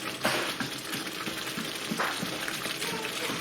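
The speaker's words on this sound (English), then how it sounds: "where it's bubbling, we call that craters." Balti curry sauce bubbling and sizzling in a hot pan for a restaurant-style lamb and chicken balti, a close, steady crackle with soft irregular pops.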